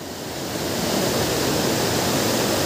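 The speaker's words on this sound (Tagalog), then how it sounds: "Itong part na to, yan, rumaragasa yung tubig na yan." A strong, rushing river current, deep and swift enough to be dangerous to wade, gives a steady, loud broadband roar of water that holds unbroken and close throughout.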